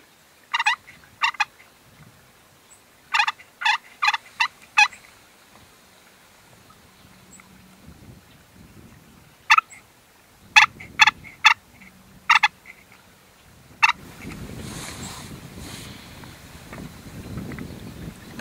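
Wild turkeys gobbling in short rattling bursts, repeated several times at a distance outdoors, with quiet gaps between calls and wind noise rising toward the end.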